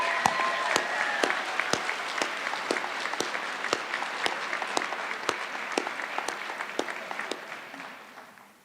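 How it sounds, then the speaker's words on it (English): A high school graduation crowd applauds the staff, filling a large hall with dense, sustained clapping, individual sharp claps popping through, before the ovation gradually tapers off at the end. "give the staff of Harold Ferguson High School one well-deserved round of applause"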